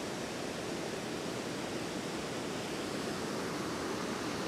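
A waterfall in a local park on a rainy winter day pours with a steady, unbroken broadband rush, moderately loud and close, with no voices present.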